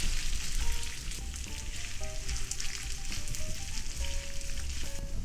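Cabbage pancake batter fries in oil in a pan, a steady, close sizzle and crackle that holds evenly throughout with a few faint tonal pings over it.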